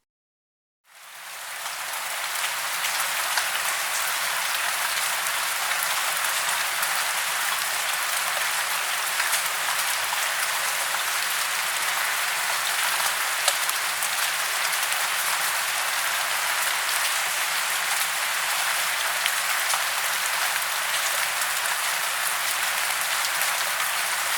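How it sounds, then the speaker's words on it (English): Heavy rain pours down in a dense, constant hiss that starts abruptly and never lets up. "It turned out that on the way home, heavy rain came over him."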